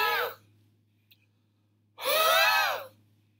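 A person imitates an asthmatic patient's wheezing exhale: two strained, whistling breaths out, a short one then a longer, louder one, close up with silence between.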